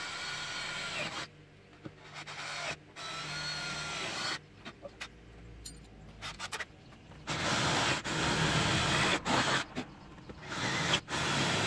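A drill bores into the body of a camper van to fix awning brackets, in intermittent loud grinding bursts separated by short quieter pauses, heard close by and growing more sustained toward the end.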